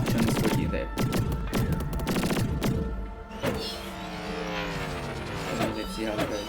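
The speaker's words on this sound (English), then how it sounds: "It is actually a lot of fun just shooting this gun." Rapid gunfire from a blaster in the VR shooter game Space Pirate Trainer DX, dense bursts of shots layered over electronic music with steady loud energy throughout.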